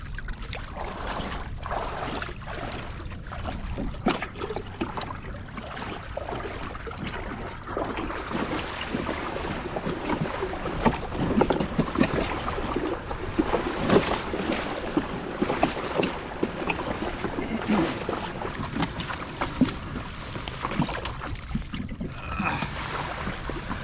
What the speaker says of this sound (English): We will be rowing this until we get there, and maybe walking, because it is really shallow.